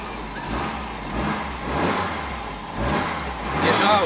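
FSO Polonez car engine revving up in several rising surges, close and rough, falling back between pushes, with a voice briefly heard nearby.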